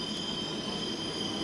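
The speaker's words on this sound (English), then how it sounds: "This train is going to take us directly to where we need to be going." A subway train at a stop on a line heading to Queens hums with a low, steady rumble and a faint high whine, quiet and continuous.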